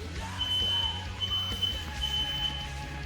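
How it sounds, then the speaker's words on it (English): A household smoke alarm, set off by smoke from cooking smash burgers, sounds a shrill, steady high-pitched tone in repeated stretches, loud and near, over a low hum of kitchen noise. "Set off my stupid smoke alarms."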